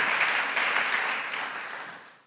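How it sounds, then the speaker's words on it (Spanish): A church congregation claps loudly for the Lord, thick, steady applause that fades away toward the end. "dele un fuerte aplauso al Señor"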